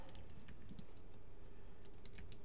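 Fingers tap a computer keyboard in two short bursts of close, quiet keystrokes over a low steady room hum.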